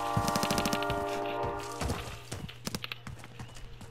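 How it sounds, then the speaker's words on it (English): Running footsteps in Call of Duty: Modern Warfare, a quick series of soft thuds and scuffs over steady game music and ambience, with a louder burst at the start and more distinct steps toward the end. "Do you hear them footsteps and shit?"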